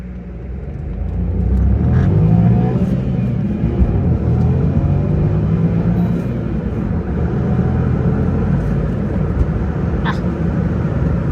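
A 2020 Volkswagen Vento 1-litre TSI Highline with manual gearbox starts up and revs, a loud, steady engine rumble rising early and holding throughout, with faint talk in the background.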